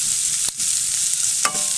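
Green chillies frying and being stirred in a pan for a beef curry, a steady close hiss of sizzling with two brief spoon scrapes standing out.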